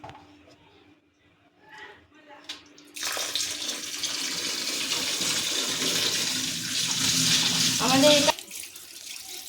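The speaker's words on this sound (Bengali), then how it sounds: "এখন এখানে ধুয়ে নেব সুন্দর করে।" Tap water gushes loudly over Cerelac ingredients being washed, a strong continuous splashing rush that starts suddenly after quiet handling noises and stops abruptly near the end, with a voice speaking before and after.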